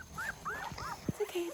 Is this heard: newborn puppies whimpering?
yes